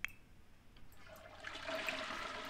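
A toilet flushing in The Sims 4 video game, a rushing swell of water that builds midway and carries on steadily to the end, moderately loud with no talking over it.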